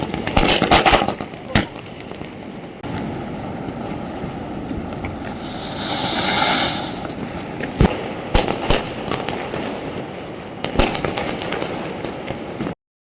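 Firecrackers burst on a home rooftop during Diwali night celebrations, loud sharp cracks and pops scattered irregularly over a steady crackling, fizzing bed, with a brighter hissing swell in the middle; no talk.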